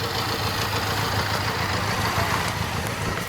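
A carbureted 1994 Honda Transalp motorcycle engine idles steadily close by, a continuous even rumble with no voices over it.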